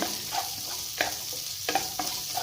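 Onions and tomatoes sautéing in oil for a Chettinad paneer gravy, with a steady soft sizzle and a few sharp clinks of a spoon stirring against the pan, close and fairly quiet.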